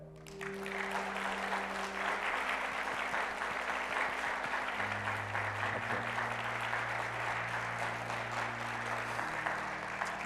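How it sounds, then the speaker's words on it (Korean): A church congregation applauding during a Sunday service, steady even clapping for about ten seconds with low sustained organ-like tones beneath, moderately distant and soft. "박수할까요?"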